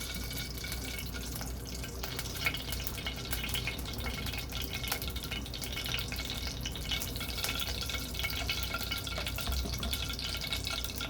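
Palm oil going into a hot pan for a fish sauce, a dense continuous sizzle and hiss that stays loud and even throughout.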